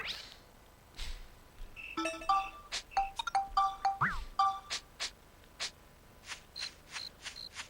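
A string of clicky menu blips, chimes and short tones as cards are sorted in Dark Chronicle, irregular quick taps rising in pitch at moments, fairly quiet and without talk.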